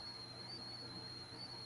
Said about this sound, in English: Hey, you're whistling again.